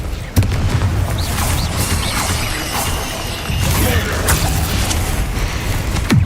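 Spell explosions in a Hogwarts Legacy battle: repeated sharp booms and crashes burst over a dense, constant wash of combat noise, loud and close.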